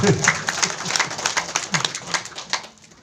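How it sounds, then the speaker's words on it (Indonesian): A crowd claps in a brief, loose burst of applause, steady patter rising and falling for a few seconds. "Nah, ini boleh tepuk tangan dulu dong, semua."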